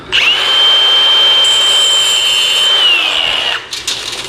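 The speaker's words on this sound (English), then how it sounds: "Take your power tool." A power drill whines at a steady high pitch for about three seconds during garage door work, winds down, then a few short clunks follow.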